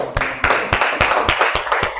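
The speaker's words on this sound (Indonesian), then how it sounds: "Tepuk tangan." Hands clap in a steady rhythm, about eight sharp, fairly close claps over two seconds, set in a classroom group activity with little other sound.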